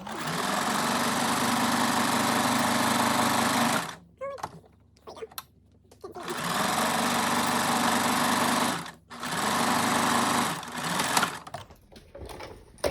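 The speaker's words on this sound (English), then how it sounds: "I'm gonna get it loaded in the machine here for my top stitch" A sewing machine top stitching a pillow cover whirs at a steady fast pace in long runs of several seconds, with pauses between runs filled by small handling clicks and rustles.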